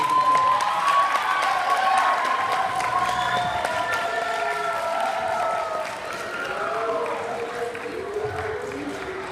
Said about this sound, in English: give our presenters a round of applause for the wonderful work